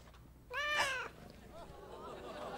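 A cat gives one clear, loud, drawn-out meow lasting about half a second near the start, then a quieter stretch with a low hum and faint sounds.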